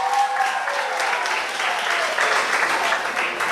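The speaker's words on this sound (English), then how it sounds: "Can we give her a round of applause, please?" Audience applause at a school prize-giving and craft display, a steady dense wash of many hands clapping that holds for the full few seconds, with faint voices mixed underneath.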